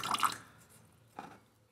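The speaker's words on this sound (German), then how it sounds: "hier tropft es jetzt" Two short water drips from a leaking pipe fitting, one at the start and another about a second later, with quiet gaps between them.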